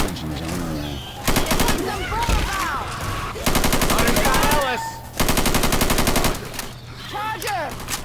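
Bursts of rapid automatic gunfire from a survival shooter video game come in three long volleys separated by brief pauses, loud and close, with a player's voice talking between and over the shots.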